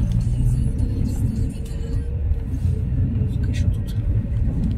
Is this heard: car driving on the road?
yes